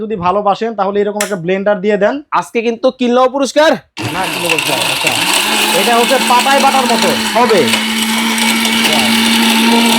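A powerful electric blender roars loud and steady for about six seconds, its motor pitch wavering as the contents churn, after a stretch of people talking at the start.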